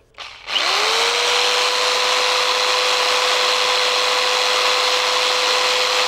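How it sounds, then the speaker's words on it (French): A small jigsaw starts up and runs continuously with a steady high whine and buzzing motor, loud and close, with no voices. "cette petite scie sauteuse"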